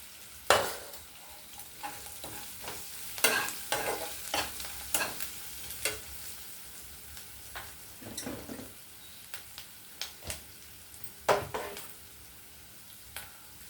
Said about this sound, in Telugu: నేను ఇలా కొంచెం మగ్గబెట్టి కలుపుతానండి.